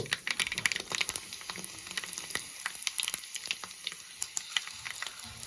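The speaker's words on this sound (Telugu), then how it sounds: "ఎండుమిర్చి వేసుకుంటున్నాను. ఎండుమిర్చి కూడా బాగా వేగాలి." Dried red chillies crackle and sizzle in hot oil over a low flame, part of a tempering with mustard seeds and cumin for a gongura coconut chutney; dense, steady frying with sharp pops throughout, close and alone.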